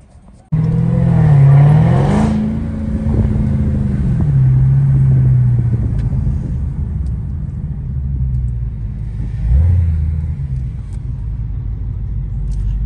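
A tuned Dodge Hellcat Charger on a Denver street at night lets out a deep, loud exhaust rumble with rising and falling revs up close, then settles into a heavy idle with a second blip near the end.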